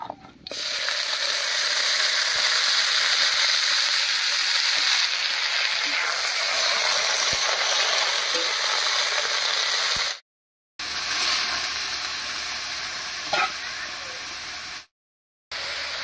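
Chopped cauliflower goes into hot tempering oil with grated ginger and fries in a loud, steady sizzle close up. The sizzle holds for about ten seconds, breaks off briefly, returns, and cuts out again near the end.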